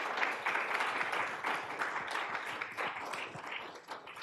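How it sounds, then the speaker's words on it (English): Audience applause at a law school judicial heritage celebration, a steady dense wash of clapping from a crowd filling the whole stretch at moderate level. "So that deserves another round of applause."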